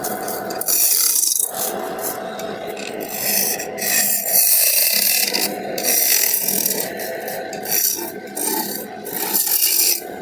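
Carved wood is hand-finished with a rasp or file, giving repeated close scraping and rubbing strokes in an uneven rhythm with brief pauses, no voices present.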